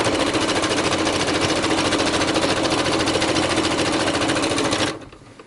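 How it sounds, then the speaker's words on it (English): A sewing machine chain-stitches fabric flips without stopping, its needle hammering in a fast, even, loud rattle for about five seconds before it abruptly stops, with no voices. "you can totally just chain stitch them. Just keep going and chain stitching them all."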